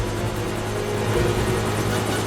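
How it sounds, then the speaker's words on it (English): Helicopter approaching in a James Bond Bloodstone action game cutscene, a dense, steady rotor and engine roar with a low pulsing throb, loud and constant without voices. "Helicopter coming around."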